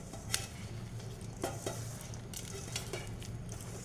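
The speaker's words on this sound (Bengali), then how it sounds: "এইবার এটাকে আমি মাখবো, মিশিয়ে নেব, সুন্দর করে মিশিয়ে নেব।" Quiet spoon-and-bowl mixing of palm fritter batter made with palm pulp, grated coconut, rice flour and a little salt, with a few soft scraping strokes and light clinks at irregular intervals.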